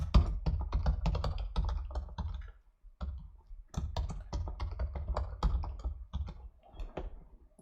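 Fast, crisp typing on a computer keyboard enters a new admin password during pfSense setup, with bursts of close keystrokes, a short pause near the middle, then more rapid clicking.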